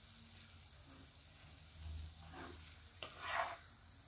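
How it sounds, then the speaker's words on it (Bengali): Boiled vermicelli is gently stirred in a pan, producing quiet, intermittent soft scrapes and faint sizzling at close range, with no speech. "সেমাইটাকে আস্তে আস্তে এভাবে মধ্যে নেড়ে নিব, এভাবে হালকা হালকাভাবে একটু একটু করে নেড়ে দিব"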